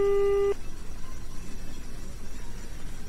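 A telephone busy signal sounds during a call: a single loud, steady electronic tone lasting about half a second, then cutting off into quiet background hiss.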